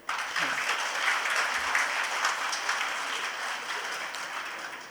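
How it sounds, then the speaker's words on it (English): A seminar audience applauds a visiting speaker after his talk on cancer genetics, a dense, even wash of clapping that rises quickly and holds steady before tapering slightly at the end. "let's give him a big clap again."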